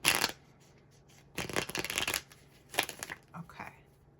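A deck of tarot cards is shuffled in several quick riffling bursts, crisp and close with short pauses between each pass.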